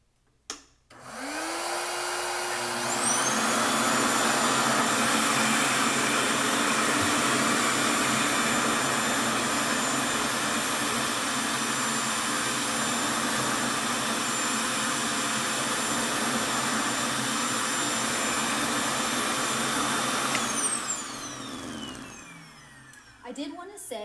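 A RevAir reverse-air hair dryer runs steadily, drawing hair in with a loud, sustained whooshing suction and a high whine that holds for about twenty seconds, then winds down. The motor is close and dominates throughout.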